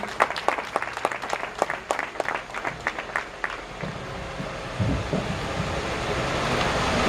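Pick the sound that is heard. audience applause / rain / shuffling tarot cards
audience applause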